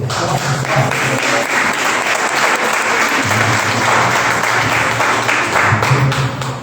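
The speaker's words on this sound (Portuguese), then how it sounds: "Você pode aplaudir o Senhor" Congregation applauding in a church service, loud continuous clapping from many people, with a low tonal hum of music or voices underneath throughout.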